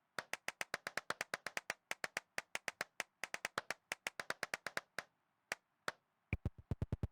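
One person claps inside an abandoned church, sharp close hand claps in a fast regular run with short pauses, then a few isolated claps and a final quick burst, each clap ringing briefly in the empty space.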